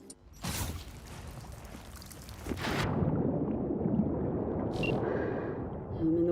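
A character in Cyberpunk 2077 wearing a tactical diving suit enters the water: a sharp splash, then a muffled underwater rumble and bubbling gurgle that holds steady, with a faint brief tone near the end.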